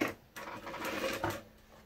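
A sewing machine stitches gathered fabric in a short, fairly quiet run, its whirring rising and falling in a couple of brief bursts.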